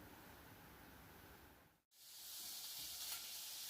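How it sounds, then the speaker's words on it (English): Beef browning in a pan sizzles with steady, loud hiss throughout, briefly cutting out near the middle before returning even stronger. "That's sizzling away nicely."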